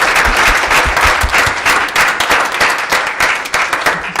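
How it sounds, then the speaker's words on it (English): A loud, close round of applause greets performers at a Hanukkah play, with many hands clapping in a dense, steady burst that holds for several seconds. "Guys, let's give them a round of applause, please."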